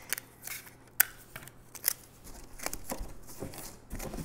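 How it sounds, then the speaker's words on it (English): Adhesive tape is pulled and pressed onto cardboard box flaps in a quiet craft setting, producing scattered crackly rips and soft rustles with a couple of sharp snaps, close and fairly faint. "I'm gonna tape the sides of the flaps of my box, tape them together so that it's a taller box"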